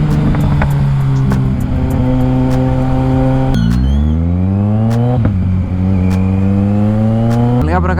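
A Kawasaki Z900 motorcycle engine revving hard in traffic, loud and close, its pitch climbing steadily through repeated rises with sharp drops between shifts, each run winding up to high RPM.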